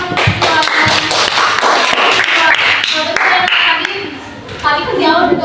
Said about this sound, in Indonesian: tepuk tangan untuk silakan